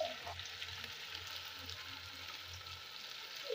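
Beef pilau seasoned with Royco cube and salt sizzles steadily in a pot while being stirred, a continuous soft frying hiss with no talking.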